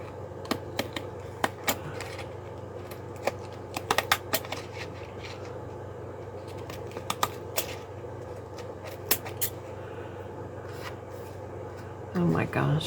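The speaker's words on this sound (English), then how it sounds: "Let's go around the postcard with fancy scissors." Fancy decorative scissors snipping around a paper postcard, leaving a string of short, sharp clicks and crunches at an uneven rhythm. They sit close and moderately loud over a steady low hum, with a brief rustle near the end.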